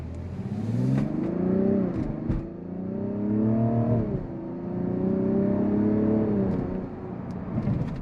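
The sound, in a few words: 2024 Mazda CX-90 accelerating from a stoplight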